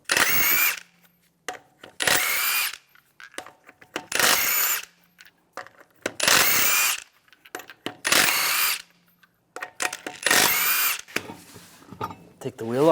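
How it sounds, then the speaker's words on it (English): A power impact tool removes the wheel lug nuts with a 22mm socket on a Cadillac Escalade. It fires in repeated short, loud bursts separated by quiet gaps. "We're going to use a 22mm socket. Take the lug nuts off."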